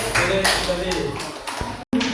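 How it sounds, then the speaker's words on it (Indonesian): Classroom applause for a student group during an Islamic education teaching-practice session: a burst of clapping with voices talking over it, fairly close, cutting off abruptly near the end before resuming briefly. "Beri tepuk tangan untuk kelompok 3."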